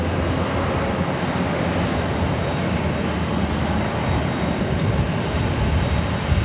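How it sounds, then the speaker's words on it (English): An Asiana Airbus A350 airliner arriving at Los Angeles International Airport gives a steady, loud broadband jet roar with a low rumble, continuous and unchanging throughout. "It's the Asiana A350, Flight 204 coming in from Seoul."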